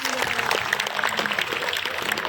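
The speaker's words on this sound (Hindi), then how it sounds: "नारी शक्ति के लिए जोरदार तालियां बजा दें हम" Applause from a crowd greets a call to honour women at a swearing-in event, a brief burst of scattered clapping at moderate distance with voices mixed in.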